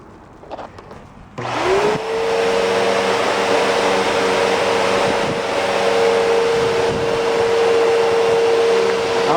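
A vacuum cleaner with only its filter fitted, foam piece left out, whirs up after a few faint clicks and holds a loud, steady motor drone with a constant whine.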